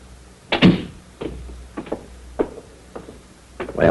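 A door closes with a solid thunk, part of a sequence of dull knocks and bumps in a radio drama scene, with no talk over them.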